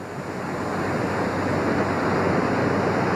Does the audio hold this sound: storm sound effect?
yes